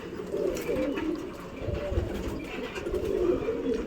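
Pigeons coo softly and steadily at a loft, low throaty calls overlapping close by, with faint voices in the background.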